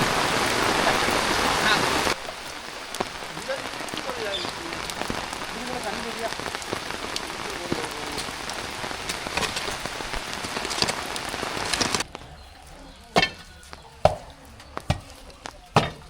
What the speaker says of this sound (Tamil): கடுமையான மழையா இருக்கு